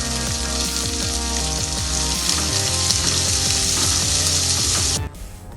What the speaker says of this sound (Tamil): அது கூடவே இந்த ஊற வச்ச துவரம்பருப்பு இதையும் போட்டு இதை நல்லா பச்சை வாசனை போகிற அளவுக்கு வதக்கிக்குவோம்